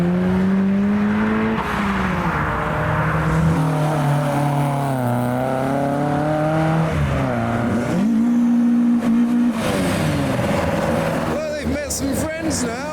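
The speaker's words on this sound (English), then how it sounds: "So much power. There goes Cortina." Ford Cortina accelerating away at a car show, a loud, close engine rising and falling in pitch through several gear changes and revs, then fading as it passes, with crowd noise and some talk around it.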